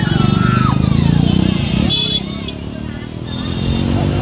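Motorcycles ridden by a group of bikers rumble and rev nearby at an outdoor crowd gathering around a plane, engine drone loud and fluctuating under crowd babble.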